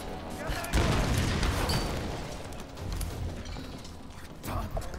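Explosions in the Tomb Raider video game go off as a deep boom followed by rumbling debris and a smaller second blast, set against a faint game background and with no clear speech.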